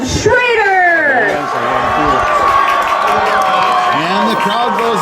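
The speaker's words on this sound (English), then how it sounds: "And the crowd goes nuts." Crowd at a high school basketball game between WLA and Mayville cheers and whoops loudly as Vikings number 7 Sam Schrader checks in, a sustained roar with shouting voices and a public-address voice over it.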